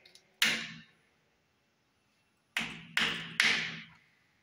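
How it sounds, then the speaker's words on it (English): Sharp, resonant knocks on a wall inside the old Moundsville Penitentiary: a single bang, a pause, then three spaced knocks echoing briefly in a quiet room. "Can you bang like this?"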